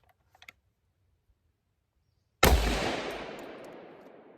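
A SCAR battle rifle fires a single loud shot, fired standing at a 50-yard range, with a long echoing decay after a few faint handling clicks.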